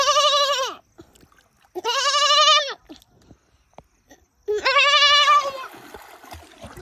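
A boy imitating a goat, giving three loud, drawn-out nasal bleats, each about a second long with short pauses between, close and clear with faint background noise.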